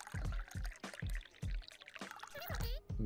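Liquid pouring out during a sushi restaurant scene in the video game Dave the Diver, heard as soft trickling beneath a string of short, thumping game sounds and chimes.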